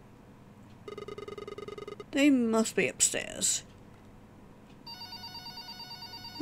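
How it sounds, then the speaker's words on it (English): A telephone in the video game Red Bow rings in a trilling electronic burst, falls silent while a person talks, then starts ringing again. "Oh, we got a phone ringing."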